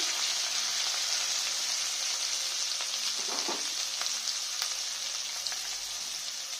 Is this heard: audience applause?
no